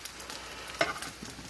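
A ham and cheese omelette cooks in a pan, giving a soft sizzle with one brief scrape or clatter of a spatula partway through.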